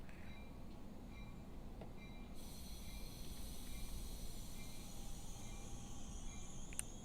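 Amtrak train rolling slowly into San Clemente station in Train Simulator, a steady low rumble of wheels and rails with a faint brake hiss and squeal rising partway through, heard alone.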